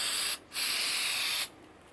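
Caulk sprayed from a can into holes in an oak tree, a loud close hissing burst lasting about a second, a short pause, then a second longer hiss that cuts off abruptly.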